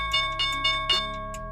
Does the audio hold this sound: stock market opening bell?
yes